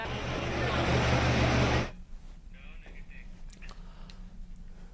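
A strong floodwater current rushes around a bus stranded in Uttarakhand. The loud, roaring wash lasts about two seconds, then drops to a quieter, murky background.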